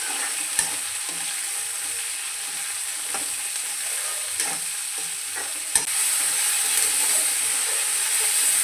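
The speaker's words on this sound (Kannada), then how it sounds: "ಈಗ ಈರುಳ್ಳಿ ಸೇರಿಸಿದ್ದಾದಮೇಲೆ ಸ್ಟವ್ವು ಹೈ ಫ್ಲೇಮಲ್ಲಿಟ್ಟು ಚೆನ್ನಾಗಿ ತಿರುಗಿಸ್ಕೊಬೇಕು" Chopped onions frying over a high flame while being stirred in a pan: a constant loud sizzle and hiss with occasional scraping knocks from the spoon, intensifying toward the end.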